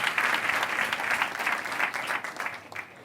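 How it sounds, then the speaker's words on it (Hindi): Audience at a motivational talk clapping on cue, a fairly distant, moderately faint patter of many hands that fades out within about three seconds. "मैं जब भी हेलो बोलूँगा आप एक बार ताली बजाएंगे"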